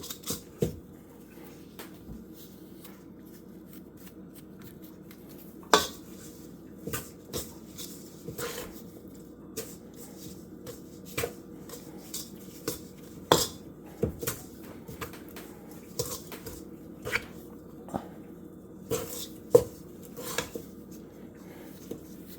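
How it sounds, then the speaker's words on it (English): Brookie pie batter is mixed in a bowl with a utensil, giving irregular soft scrapes and occasional sharper clinks against the bowl's sides at close range over a quiet background, with no talking. "mix it until it's well incorporated. Clean the sides of the bowl."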